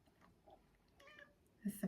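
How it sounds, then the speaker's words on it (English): A pet cat at a window gives a short meow near the end, close and fairly clear, after a quiet stretch with faint sounds in the room. "It's my cat"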